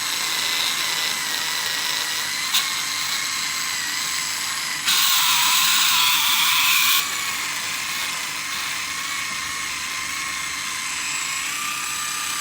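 An electric nail file fitted with a small cuticle bit whines steadily at high pitch throughout, close and continuous, with a brief louder surge partway through as it meets the nail.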